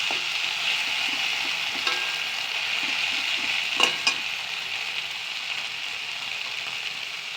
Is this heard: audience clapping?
no